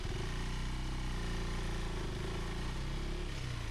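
A motorcycle engine runs steadily on an off-road trail in Kerala, a close, even drone with a low rumbling tone and no voices over it.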